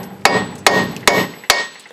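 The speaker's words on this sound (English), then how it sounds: "I'm gonna probably give it a bonk with a hammer" Four sharp metallic hammer strikes on a rusted front strut of a Mazda 3, spaced evenly about every half second, each ringing briefly before the next blow, loud and close with no talking.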